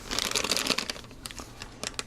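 A plastic bag holding model kit tires crinkles close up in a quick burst of rustles, followed by a few sparser crackles, faint and without any talking.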